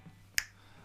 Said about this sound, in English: they've left the finger snap in, but it's now in the center